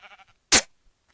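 A single loud, short sheep bleat from the Minecraft video game sounds alone and up close, preceded by a few faint, brief sounds.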